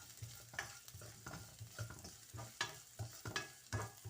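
Soft oil sizzling in a pan as garlic cloves fry, with repeated light scraping and stirring strokes, quiet and close, no voices.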